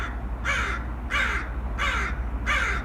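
A sitcom baby fakes choking with four evenly spaced, loud, harsh caws that sound just like a crow, each a short rasping burst over a low background hum.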